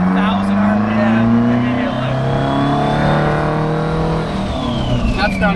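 A Detroit Diesel engine swapped into a 1949 Ford F7 truck revs loud and close with a rising, sustained drone. People talk over it.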